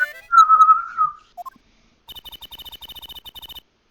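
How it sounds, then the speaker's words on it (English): In the Apollo Justice video game, a whistle shrills in one sustained blast, then a short chirp follows. After a pause comes a rapid train of short, evenly spaced trills, crisp and close. "I was doing my rounds, blowing my whistle."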